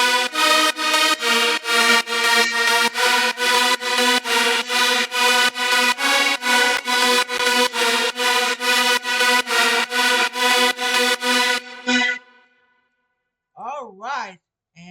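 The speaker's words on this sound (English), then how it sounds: "And the last one is the second lead." A second bright, buzzy synth lead made in FL Studio repeats rapid, evenly spaced staccato notes for about twelve seconds before cutting off, followed by a short stretch of speech.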